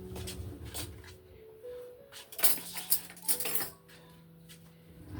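A spoon stirring food coloring in a dish, producing scattered clinks and scrapes against the dish that cluster into a busier run midway before easing off.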